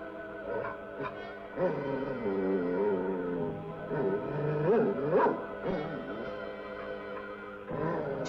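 Several dogs in the 1959 film Attack of the Giant Leeches bark, whine and yip in a tangle of overlapping calls, fairly close, with a slight echo.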